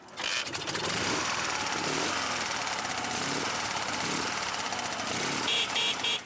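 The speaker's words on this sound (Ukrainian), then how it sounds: "Мотоцикл сильний, хороший." A motorcycle engine runs continuously at a bikers' season-opening gathering in Uzhhorod, a loud, steady rough drone with a buzzing texture, close by, joined near the end by a faint, brief higher tone.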